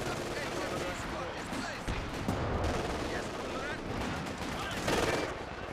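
Machine gun fire and other gunfire in the video game Company of Heroes 2 crackles through a dense, continuous battle soundscape with overlapping bursts and explosions.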